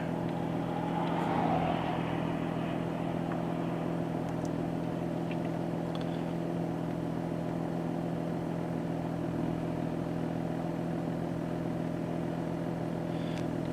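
A Toyota Supra engine held at steady high revs around 4,500 RPM, a continuous droning hum at constant pitch with a slight swell early on.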